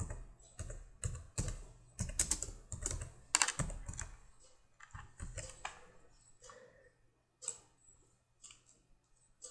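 Rapid, irregular clicking of a computer keyboard as Java code is typed, close and fairly quiet, coming in bursts with short pauses and no talking.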